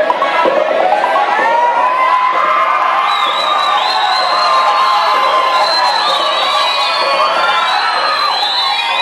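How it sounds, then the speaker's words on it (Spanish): A crowd at a patron saint festival queen pageant in Monción, 2014, cheers and whoops loudly for a candidate, with shouting voices and some clapping in a dense, sustained roar. "Un fuerte aplauso para nuestra última candidata."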